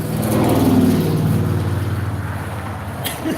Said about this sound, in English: Big truck coming by here.